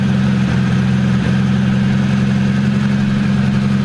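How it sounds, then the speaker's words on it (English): A 1980 Triumph TR7 engine, long abandoned, idles close and loud with a steady, even low rumble and no revving. "engine's nice and quiet, no oil light on"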